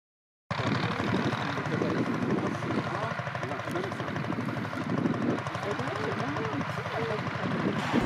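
Forty-year-old tractor engine running, a loud, steady low chugging rumble that starts after a brief silence and continues evenly, with voices faintly mixed in.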